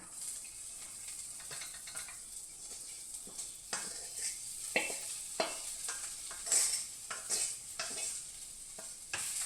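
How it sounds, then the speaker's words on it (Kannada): Fried okra (bhindi) tossed with cumin in a pan: repeated scraping and clicking spatula strokes over a continuous soft sizzle, close and moderately loud throughout. "ಈ ಥರ ಹಾಕ್ಬಿಟ್ಟು ಹೀಗೆ ಕೆಡಕೋಬೇಕು"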